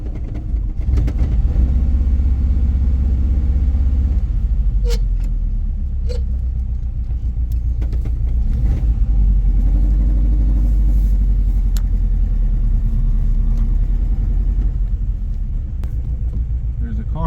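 A 1950 Ford Police Special backs out onto the road, its engine a loud steady low rumble throughout with someone talking over it.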